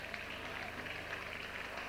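Applause and cheering from a crowd at a football grand final rise in a steady, close wash of clapping and voices as fans celebrate a win and run onto the pitch.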